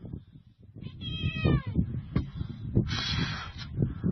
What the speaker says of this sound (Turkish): Arabanın altına kedi giriyor ya, hayret bir şey ya.